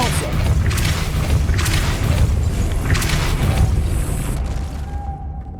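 A Depulso spell cast in Hogwarts Legacy, heard as a booming, crashing game blast with several thumping surges over a dense rumble that fades out near the end, loud and close.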